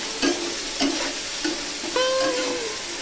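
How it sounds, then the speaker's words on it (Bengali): Taro stolons (kochur loti) frying in a pan with salt and turmeric over high heat, a loud continuous sizzle broken by several scraping stirs of a utensil and a short metallic squeak. "লবণ হলুদ দিয়ে কত লতিটাকে একটু ভেজে নেব আঁচটাকে হাই রেখে"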